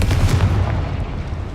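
Confringo spell explosion in the video game Hogwarts Legacy, a single loud, close booming blast that fades out over about a second.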